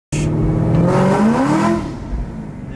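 A cammed Ford GT500 V8 with 2-inch headers accelerating hard, a loud close engine note climbing steadily in pitch before easing off after a shift, no talk.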